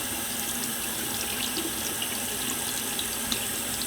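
Water runs steadily from a tap over a Pebble smartwatch held under the stream, a continuous close splashing hiss with no talk.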